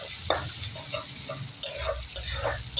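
Ginger, garlic, coriander leaves and green chilli being stirred in a hot frying pan, a soft sizzle with several scraping spoon strokes close by, no talking.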